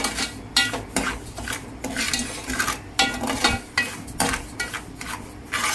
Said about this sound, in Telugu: కాస్త వేయించుకోవాలండి, వేయించుకుంటే కమ్మగా ఉంటుంది.